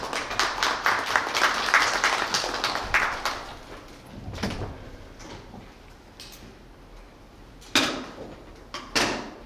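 An audience claps for a presenter at a youth policy talk event, loud at first and then fading into a quieter room, followed by a few sharp thumps and knocks near the end.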